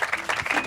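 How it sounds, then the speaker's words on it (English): An audience applauds at a morning breakfast event in Kona, with a brief burst of clapping and crowd noise that overlaps with talk. "How about a round of applause for Natascha Badmann?"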